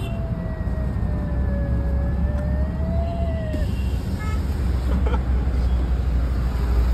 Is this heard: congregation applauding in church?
no